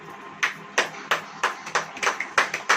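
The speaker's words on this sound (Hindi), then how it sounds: "ताली बजाओ।" A church congregation claps in unison, about nine crisp, evenly spaced claps with brief gaps between them.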